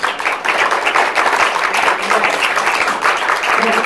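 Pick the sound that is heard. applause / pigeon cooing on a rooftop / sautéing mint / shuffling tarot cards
applause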